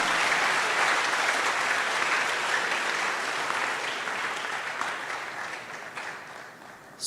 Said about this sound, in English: let's clap again for GCB Bank